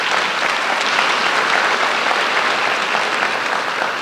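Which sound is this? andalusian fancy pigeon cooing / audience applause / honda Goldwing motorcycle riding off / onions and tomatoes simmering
audience applause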